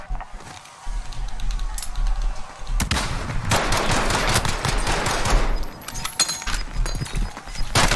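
Video game gunfire: rapid bursts of automatic shots and loud bangs filling most of the stretch, with a brief quieter gap before the heavy firing resumes.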